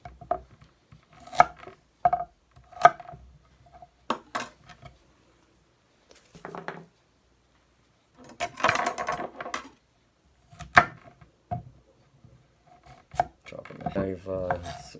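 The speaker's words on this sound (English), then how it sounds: "Some carrots, chop the ends off." A knife chopping the ends off raw carrots on a board for homemade chicken stock: sharp, close chops, some in quick rhythmic runs and some single, separated by quiet gaps and light rustling handling.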